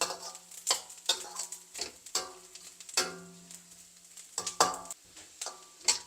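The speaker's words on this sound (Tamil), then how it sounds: "இந்த தேங்காயும் கொஞ்சம் வறுப்படுது, இன்னும் கொஞ்சம் வறுப்படணும்." Grated coconut roasts dry in a pan for sweet porivilangai balls, stirred with a spoon that knocks and scrapes against the metal in irregular close clicks, with faint sizzling beneath.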